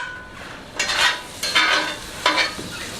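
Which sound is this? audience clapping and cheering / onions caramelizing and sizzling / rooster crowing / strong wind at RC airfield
onions caramelizing and sizzling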